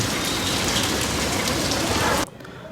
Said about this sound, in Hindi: यहाँ पे जो है बहुत तेज़ बारिश जो है स्टार्ट हो चुकी है